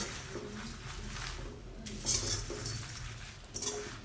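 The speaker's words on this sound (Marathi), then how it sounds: "त्याच्यामुळे याच्यामध्ये थोडं तेल टाकून आपण हा मसाला भाजत आहोत" Shahi biryani masala roasting in a little oil in a pan, heard as faint scraping and light clinks of a spoon stirring against the metal, with a soft sizzle underneath.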